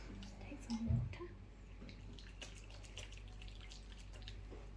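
Water is splashed onto the hands during a manicure cleanse, heard as a brief close splash and a few faint drips over a quiet background hiss, with faint whispery voice sounds.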